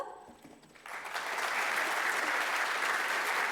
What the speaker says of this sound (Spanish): por favor, brindémosle un gran aplauso